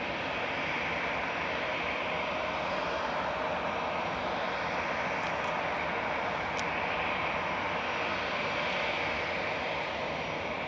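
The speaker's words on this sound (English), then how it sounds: "Another EasyJet going to Alicante, taxiing out" An EasyJet airliner taxis at Manchester Airport, its jet engines giving a steady broad roar and whine at moderate distance, continuous throughout with no voices.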